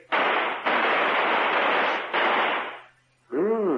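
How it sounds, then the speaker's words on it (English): Gunshots fired at clay targets in an old-time radio drama: three loud, close bangs follow one another in quick succession, and a short voice comes in after them. "On the count of 3, reach for your gun and fire."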